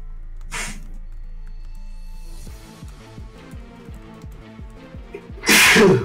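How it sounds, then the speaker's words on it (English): A man sneezes, one short sharp sneeze near the start and a louder, forceful one at the end, close and alone. Soft background music plays underneath. "That's how he sneezes when he's well."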